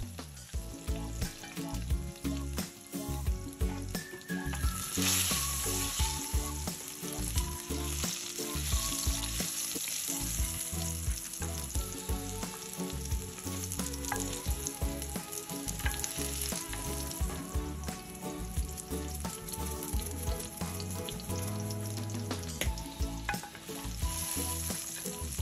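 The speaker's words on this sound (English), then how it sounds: "we're just going to go ahead and fry the eggplant until it's golden brown on the sides." Eggplant fries steadily in a pan, a dense continuous sizzle and crackle running loud and unbroken with no one talking.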